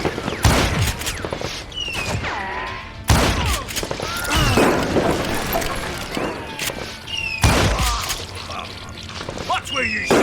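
Gunfire from the Western shooter game Call of Juarez: Gunslinger, with several loud sharp shots and volleys arriving in clusters across ten seconds, ringing tails and debris clatter between them, close and dense.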